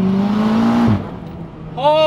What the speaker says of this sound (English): So we're taking off now.